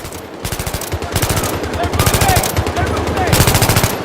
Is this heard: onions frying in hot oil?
no